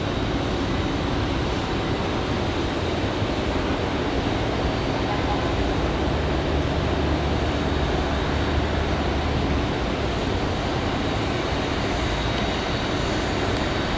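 An Airbus A321 departs Raleigh-Durham airport in windy conditions, giving a loud, continuous jet roar that holds steady throughout, with wind noise mixed in.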